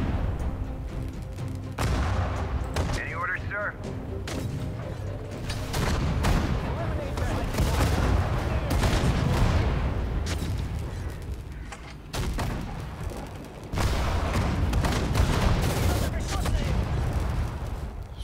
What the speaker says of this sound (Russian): Зенитная пушка.